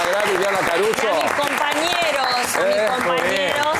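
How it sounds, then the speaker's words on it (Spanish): Studio audience on a television program applauds in a dense, continuous wash of clapping, loud and close, with voices mixed in and carrying over it throughout. "un aplauso grande de todo el piso para Liliana Caruso"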